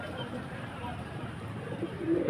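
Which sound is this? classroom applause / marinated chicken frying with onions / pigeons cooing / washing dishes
pigeons cooing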